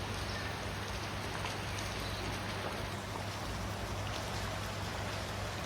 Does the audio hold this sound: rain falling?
yes